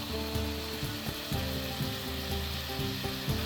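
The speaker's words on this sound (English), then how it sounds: "Toss and turn the contents of the pan until the sprouts and kale have wilted, about 2 minutes." Kale, daikon radish sprouts and herbs fry in a hot pan with cockatrice meat for an oyakodon, a steady close sizzle with repeated bursts as the greens are tossed and turned, no voices.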